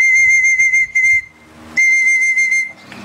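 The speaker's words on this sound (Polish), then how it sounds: "Kazał mi gwizdać, to gwizdam." A person whistling to call racing pigeons home at a pigeon club flight arrival, two long loud shrill sustained blasts separated by a short pause, close by.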